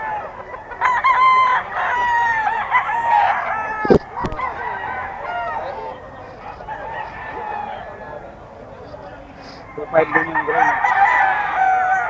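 Hatch gray gamecock roosters at a Bocaue market crow loudly and close, several drawn-out calls overlapping with clucks, while people talk nearby.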